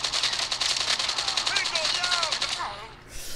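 A rapid automatic burst of gunfire in Call of Duty Mobile, a steady rattling stream of shots for most of the clip, moderately loud, with the player's voice talking over it.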